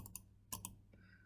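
A few sharp computer clicks at a desk, two quick pairs of light taps close together, then a faint softer tick, quiet and close with no voices.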